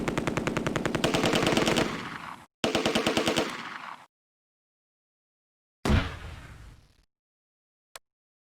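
Machine gun fire in the World War II strategy game Close Combat: A Bridge Too Far, two rapid bursts of rattling shots followed by a single sharp crack and a brief click, with no talking.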